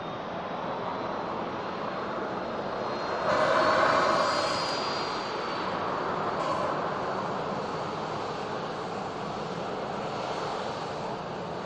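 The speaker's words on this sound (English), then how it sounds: "Here's the next arrival, the EasyJet." An EasyJet airliner arrives at Manchester Airport with a steady, moderately distant jet engine rumble that swells briefly partway through before settling back to a sustained drone, no voices present.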